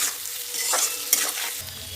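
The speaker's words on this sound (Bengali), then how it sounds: "হলুদ নুন আর কাশ্মীরি মির্চ দিয়ে ভেজে নিচ্ছি" Paneer pieces fried in oil with turmeric, salt and Kashmiri chilli for matar paneer, a steady close sizzle with a few stirring scrapes and clinks, no talking.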